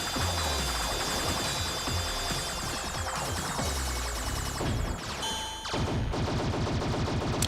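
Rapid shooting in the Salamander 3 arcade shooter, a steady stream of shots layered over loud game music and rumbling effects, with a brief dip before the barrage resumes.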